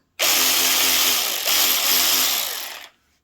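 A cordless ratchet wrench runs for nearly three seconds in one steady, loud, close-up motor whir with a slight dip midway, then cuts off abruptly, with no talking.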